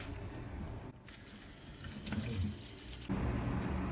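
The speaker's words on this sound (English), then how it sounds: "I'm going to rinse it with cold water and re-wash the pot." Tap water gushes steadily into a pot of blanched bones as they are rinsed under cold water, a loud continuous splashing hiss that briefly cuts out and then resumes stronger.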